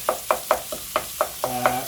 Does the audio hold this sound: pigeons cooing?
no